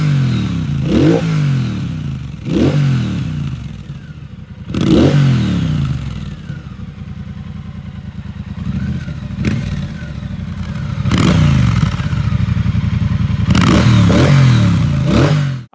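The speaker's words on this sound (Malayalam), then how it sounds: "നമുക്ക് ഇതിൻ്റെ എഞ്ചിൻ സൗണ്ട് ഒന്ന് കേട്ട് നോക്കാം." A Triumph Speedmaster 1200 motorcycle engine idles with a low throbbing rumble, broken by several sharp throttle blips that rev up and fall back, growing louder and busier toward the end before cutting off.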